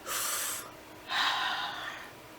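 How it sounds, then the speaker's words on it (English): Two deep breaths, each a loud airy rush lasting about half a second, heard close and alone with a short pause between them. "Deep breathing, deeply."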